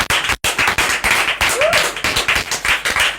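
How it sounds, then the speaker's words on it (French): A church congregation claps and applauds in a dense, close, steady burst of hand claps, with voices faintly mixed in. "on acclame pour le frère Audrey"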